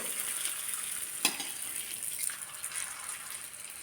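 Ragi sandige deep-frying in hot oil, a faint, steady high sizzle with one sharp clatter early on.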